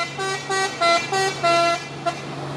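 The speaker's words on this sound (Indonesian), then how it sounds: "Full telolet, mantap." Telolet musical horn on an orange Fuso 6x2 truck plays a melodic sequence of several sustained toots in short repeating bursts, loud and close over a steady engine hum.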